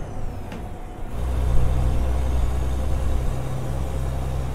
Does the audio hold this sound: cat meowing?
no